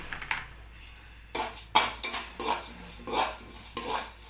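Urad and moong dal roast in a thick, heavy pan for munugaku karam podi, with a series of close, crisp stirring scrapes and rattles of lentils against metal coming in irregular bursts after a quieter start.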